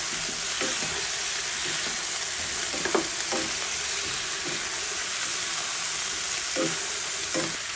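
Boiled pork with tomatoes sizzles in a frying pan as it's stirred, a steady hiss with periodic scraping strokes of a utensil, close up and without speech.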